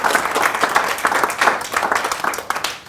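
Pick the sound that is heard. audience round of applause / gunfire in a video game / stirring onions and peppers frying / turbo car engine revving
audience round of applause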